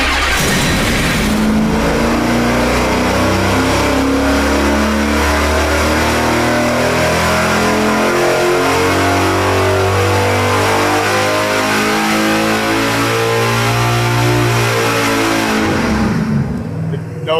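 A 5.7 Hemi V8 running on an engine dyno, loud and close, sweeping steadily up through a long pull in a rising, rasping roar, then cutting off sharply at the end; voices occasionally break in under the engine.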